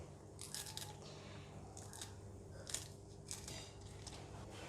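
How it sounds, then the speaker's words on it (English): Scissors snip green bird's eye chilies over a mortar in a kitchen, a handful of short, crisp cuts spaced irregularly and heard close and quiet with no talking. "Use the scissors to cut the chili and drop it straight into the mortar."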